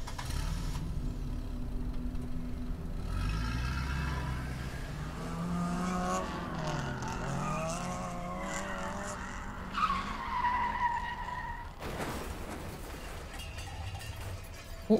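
A taxi's engine revs and roars in The Bookwalker video game as tires skid and squeal, with clattering impacts near the end, loud and continuous without speech.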